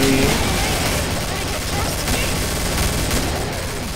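Sustained loud gunfire in the Killing Floor video game, a dense barrage of shots blending into a continuous roar, with a voice speaking over it.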